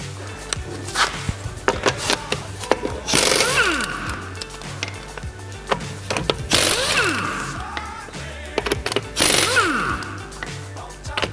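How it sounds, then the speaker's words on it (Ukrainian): A ratchet tool works on a car wheel in a repair shop during a shock absorber replacement, giving rapid metallic clicking bursts in repeated loud runs, with clanks and rattles between them. "Знімаємо колесо."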